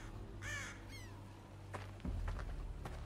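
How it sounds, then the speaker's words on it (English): Crows caw in a zombie video game, a couple of harsh caws early on over a low ambient drone, followed by a heavier rumble and scattered noises. "Just those fucking crows."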